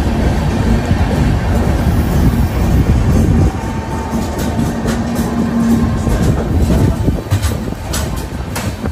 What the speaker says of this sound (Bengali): এখন এই স্টেশনে ট্রেনটা 5 মিনিট দাঁড়াবে, তারপরে এখান থেকে ছেড়ে যাবে